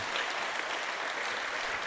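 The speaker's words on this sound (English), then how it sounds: "Great support by South Australia and their supporters clapping Charrington off this match." Supporters at a South Australia versus Queensland men's match applaud steadily as a player leaves the field, a dense, continuous wash of clapping with no break.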